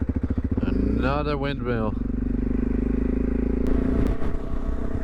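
An offroad motorcycle rides through the Dutch countryside near the German border, its engine droning steadily and close throughout while someone speaks briefly over it, with wind buffeting the microphone.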